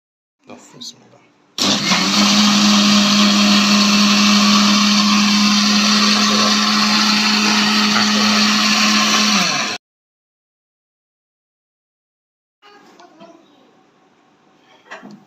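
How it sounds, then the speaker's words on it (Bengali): A blender whirs loudly and steadily for about eight seconds, blending milk, bread and three eggs into a pudding mix, then cuts off abruptly; brief talk comes before and after it. "এখন আমরা এই দুধ এবং ব্রেডগুলো এখন আমরা ব্লেন্ডার করে নিব"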